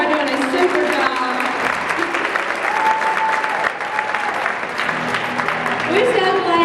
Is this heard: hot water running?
no